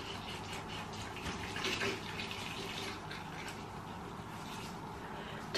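Tap water runs steadily into a bathroom sink as hands are wetted during a skincare routine, a close, continuous hiss with a brief louder surge midway.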